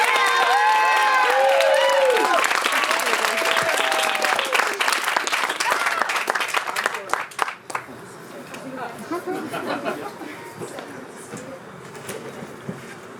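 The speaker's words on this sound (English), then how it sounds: "Can we have another round of applause for the Steves?" Applause and cheering at a school graduation ceremony at a Montessori school, lively clapping with whoops and excited voices that gradually thins and fades into scattered claps and murmuring talk.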